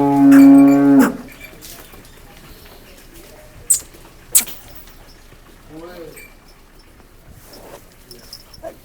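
A freshly calved buffalo gives one loud, long moo at the start, followed by quiet barn ambience with two sharp clicks and faint distant sounds.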